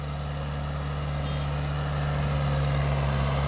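Mahindra 575 MKM turbo tractor engine running steadily with a deep low drone and constant vibration, close and fairly loud, gradually building slightly in level, with no voices.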